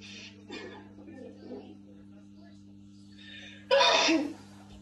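A single short, sharp sneeze bursts out near the end, loud and close, following a quiet stretch with faint speech and a steady low hum during an upper-body and core workout class.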